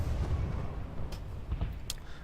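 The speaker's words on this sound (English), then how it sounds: "You can see a lot of NC tanks on fire there and a lot exploding." Tank explosions in the video game Planetside 2, heavy booming blasts and rumbling gunfire rolling together in a dense, continuous battle din with a couple of sharper cracks near the end.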